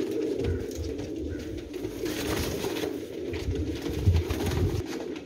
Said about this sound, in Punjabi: ਚੀਨਾ ਟੈਡੀ ਕਬੂਤਰ ਹੈ ਮਾਸ਼ਾਅੱਲਾ